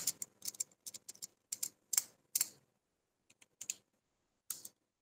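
Quiet computer keyboard typing during Tally accounting invoice entry, short bursts of rapid clicky keystrokes separated by pauses, close and alone with no talking.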